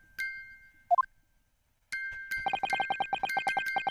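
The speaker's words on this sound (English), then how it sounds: "the sound emanating from this music box is... It's not supposed to be music. This is Morse code." A music box in the Ace Attorney video game chimes Morse code: a few isolated tones, a brief pause, then a fast run of evenly pulsed high chimes, clear and alone.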